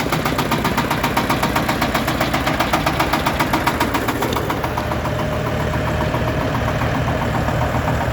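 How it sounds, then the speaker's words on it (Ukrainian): A tractor's four-cylinder diesel engine idles steadily up close with a rough, uneven knock, one cylinder beating slightly louder than the other three. "Три циліндра тихенько працює і один циліндр трошки гучний."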